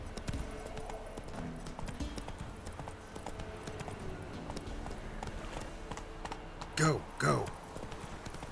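Hooves of the horse Roach galloping in The Witcher 3, a rapid, quiet clip-clop rhythm running steadily under brief spoken words, with two louder whinny-like bursts near the end.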